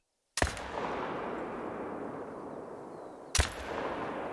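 Two sharp, loud Zarza-10 .308 rifle shots in theHunter: Call of the Wild ring out about three seconds apart, each followed by a long, fading rumbling echo across open terrain.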